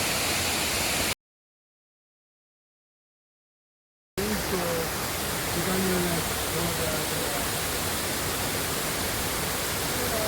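The Lover's Leap waterfall flows with a constant, dense, hissing roar. The sound cuts out completely for about three seconds near the start, then returns, with a faint voice briefly under the rushing water.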